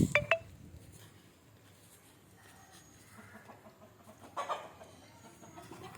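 Native country chickens cluck near a wooden coop in short bursts at the start and again near the end, fairly faint against a quiet outdoor background.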